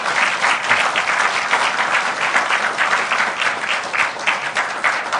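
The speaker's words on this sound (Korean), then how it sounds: "박수도 한번 쳐주세요." Steady, loud applause from a seated audience at a Kwanhun Club debate forum with the Gyeonggi Province governor, sustained without break.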